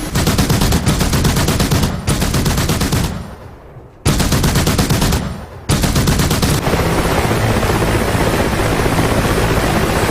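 Machine-gun fire rattles in long, rapid bursts around a Mi-17 helicopter in the DCS World flight game, with the rotor's thrum persisting between two short gaps and a steady engine roar filling the final stretch.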